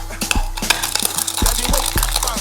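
Black peppercorns, salt and dry garlic flakes are crushed together for seasoning fish in a spicy seafood yam pottage, giving close, rapid grinding and tapping knocks with small gritty crackles in a steady rhythm.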